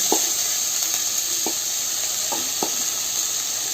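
Drumstick curry masala sizzles and fries steadily in a hot pan, with a few sharp scrapes and clinks of stirring spaced through the close, continuous hiss.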